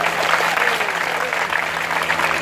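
Crowd of listeners at a monk's sermon clapping together, a dense, steady patter of applause throughout, fairly loud and close.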